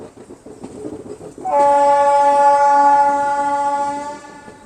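An Indian Railways Lucknow–Chennai Express hauled by a WAP4 electric locomotive rumbles softly, then sounds a loud, sustained horn blast that fades slightly near the end.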